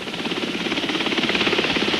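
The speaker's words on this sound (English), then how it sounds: "A pilot is saved by helicopter." A rescue helicopter's rotor beats in a rapid, steady chop over a broad roar of engine noise, loud and continuous with no voices.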